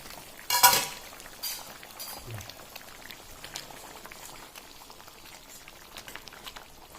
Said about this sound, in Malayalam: ഒന്നത് നല്ലപോലെ തിളച്ച് വരട്ടെ.